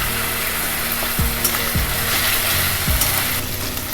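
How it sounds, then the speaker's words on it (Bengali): Chopped tomatoes frying in hot oil for a Bengali tel koi fish curry, a loud, steady sizzle with the scrape of a spatula stirring the pan several times, no voices. "এবার আমরা এতে অ্যাড করে নেব কেটে রাখা টমেটো।"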